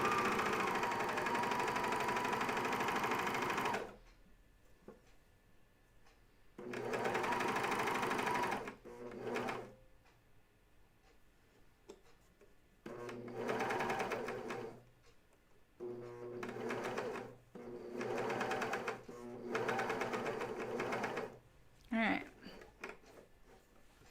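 A coverstitch sewing machine hems pajama tops, its motor whirring in loud, even runs separated by short quiet pauses, close up.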